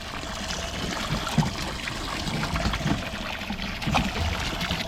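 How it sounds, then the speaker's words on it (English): Water pumped out of a small aluminium tinny boat used as a live bait tank, a steady trickling, splashing pour running close by for the whole stretch with no talk over it. "So I just begin to you know, pump the water out of the boat."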